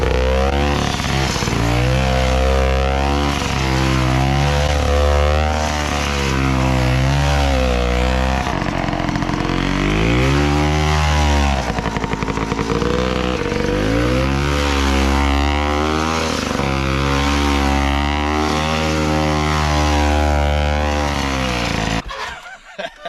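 A 1966 Cotton motorcycle ridden nearby, its engine revving and dropping through repeated rising and falling pitch sweeps, loud and continuous throughout with no talking.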